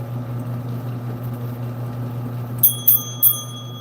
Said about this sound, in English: Where the heck's my bell?